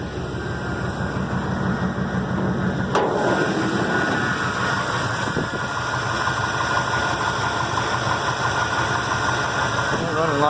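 Carbureted engine of a 1988 GMC Sierra barn-find truck running steadily at idle nearby, a rough continuous mechanical drone with a faint knock and a sharp click partway through.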